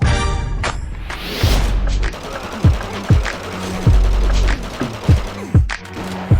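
Gunfire in a one-against-five firefight in the video game 50 Cent: Bulletproof on PSP, a string of sharp, loud shots and thumps spaced irregularly over a few seconds.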